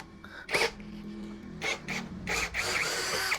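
An HL BCID 813 cordless impact drill in drilling mode, bit biting through material in short rasping bursts with brief pauses between them, close and fairly loud.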